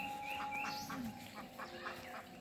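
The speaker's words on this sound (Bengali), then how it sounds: "সেই নর্দমায় হাঁসগুলো খেলা করতেছে" Faint, soft duck quacks and chatter come from a short distance as ducks play in a village drain, in a quiet outdoor setting, with a faint steady tone behind.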